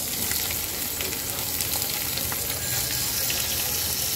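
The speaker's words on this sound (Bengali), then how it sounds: "এখন আমি মাছগুলো ভেজে নেব" Mola fish frying in hot oil in a wok, a dense continuous sizzle with tiny crackling pops, loud and close throughout without any talking.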